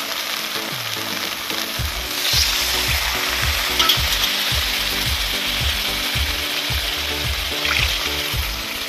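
Masala for a fish curry, with potatoes, fries in a pan, a loud continuous sizzle broken by repeated scraping strokes of a spatula stirring in a steady rhythm, close up, with no talking.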